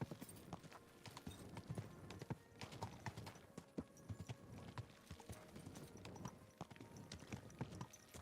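Steady clip-clop of horse hooves walking at an even pace in the video game Kingdom Come: Deliverance 2, with soft background ambience and no talking.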